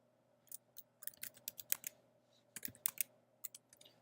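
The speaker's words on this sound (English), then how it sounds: "You can use tab complete just by typing in E and then tab." Quick bursts of keystrokes on a computer keyboard, close and crisp, in two clusters separated by a short pause, against a faint steady hum with no talk.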